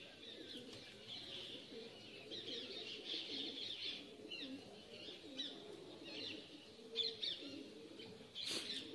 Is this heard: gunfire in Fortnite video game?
no